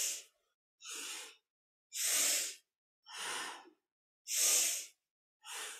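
During a kundalini yoga spinal flex, someone breathes loud, forceful breaths through the nose at close range, six rhythmic bursts about a second apart, each followed by brief silence.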